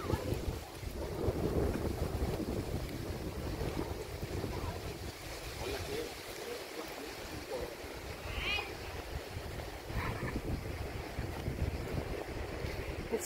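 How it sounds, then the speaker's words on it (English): Steady wind gusting outdoors in a forest near Sataplia Cave, a broad continuous roar with buffeting on the microphone lasting the whole stretch, with faint higher sounds now and then. "It's really windy here"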